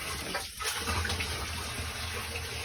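Sewage water gushes from a basement sewage pump pit in a steady, rushing splash that stays fairly constant, close by.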